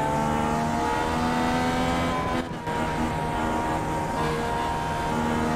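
Race cars in the iRacing simulator pull away at a race start, a loud, steady engine drone with sustained tones and a brief dip midway.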